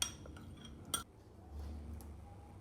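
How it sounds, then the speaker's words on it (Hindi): A spoon clinks against a bowl while watermelon rind cubes are mixed with food colouring: two short, faint metallic taps, then a quiet hum in a still kitchen. "सारी क्यूब को इस तरह मिक्स कर लूँगी। इसी तरह अलग-अलग चम्मच से करूँगी"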